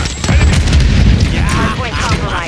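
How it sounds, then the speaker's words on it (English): Explosions from an enemy precision airstrike in Call of Duty MW3, a dense run of heavy booms and rumbling blasts close up and loud, with game voice and player talk mixed over them. "Enemy precision airstrike."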